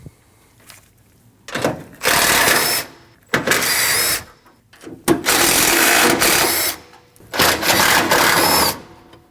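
A power tool drives out the 8mm bolts holding the coolant reservoir on a 2012-2021 Nissan NV2500 5.6L V8. It makes four loud, buzzing whirring bursts of a second or two each, separated by short pauses, close up and without talk.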